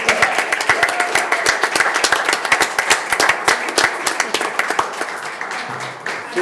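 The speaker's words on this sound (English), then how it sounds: "Let's give her another big round" Audience applause at a township trustees meeting, a dense run of many hands clapping steadily and fairly close for the whole stretch, with brief murmurs mixed in.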